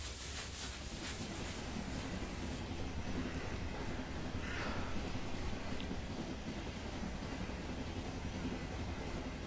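Steady rumble of a train ride in the video game The 39 Steps, a continuous low, dense roar with faint rhythmic clatter, even in level throughout and fairly quiet, with no talking.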